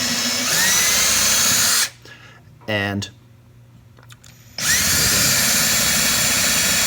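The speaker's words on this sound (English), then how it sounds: "What we're doing is we're kind of drilling out those threads." A power drill bores out the threads in a neck-bolt hole on a Harley Benton guitar, running in a short whine between stretches of talk, close and fairly loud.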